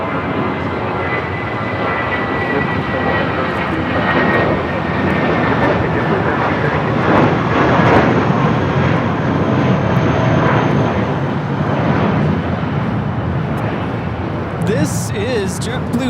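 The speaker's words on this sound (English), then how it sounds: "2735 taking off to Salt Lake City, Utah on the A320." JetBlue Airways Airbus A320 jet taking off from LAX, a sustained broad roar of engines that swells gently and stays loud throughout, with a few faint brief tones near the end.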